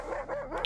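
Dog barking in The Last of Us TV series, a single brief, muffled bark or yip heard over low background sound.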